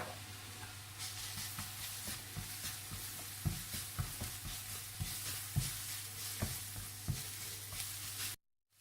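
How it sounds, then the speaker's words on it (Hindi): Onions frying with ground garlic, black pepper, salt and crushed red chilli, a continuous close sizzle under a low hum, broken by regular scraping stirs of a spoon in the pan. "आप इसमें पिसा हुआ लहसुन, काली मिर्च, नमक और कुटी हुई लाल मिर्च डाल दें और अच्छी तरह से भून लें।"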